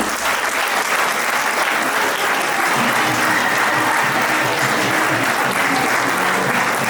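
An audience at a teachers' award ceremony gives a sustained round of applause, dense and loud clapping from a large crowd that continues unbroken for about seven seconds.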